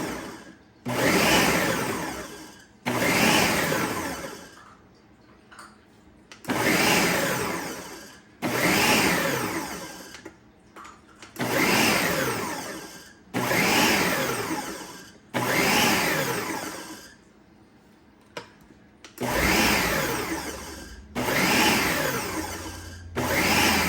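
A food processor chops baby carrots for a carrot salad in repeated loud pulses, about nine bursts of whirring motor and blade noise separated by short pauses.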